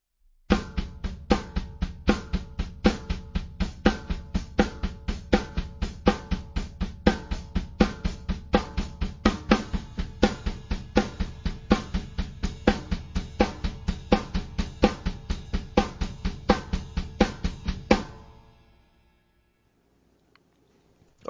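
A drum kit plays a slow, even exercise on ride cymbal and kick drum, with steady strikes for about eighteen seconds before the cymbal rings out and fades into near silence.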